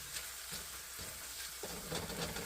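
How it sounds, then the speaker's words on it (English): Baby bella mushrooms sauté in butter in a pan, a steady soft sizzle with faint stirring shifts, quiet and continuous. "I'm sauteing them in some butter."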